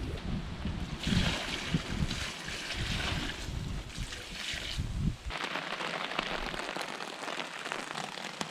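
Steady rain patters on a tent overhead at North Tea Lake in Algonquin Provincial Park, a dense hiss with soft drumming that stays constant throughout, with a slight shift in tone partway.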